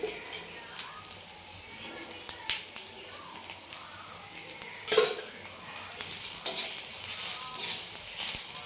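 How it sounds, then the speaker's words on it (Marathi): Bay leaves and onion frying in oil for a mutton masala, a soft steady sizzle with occasional sharp clinks of a spoon against the pan, fairly faint throughout. "हे पण चांगलं परतून घ्यायचं थोडंसं तेल टाकते"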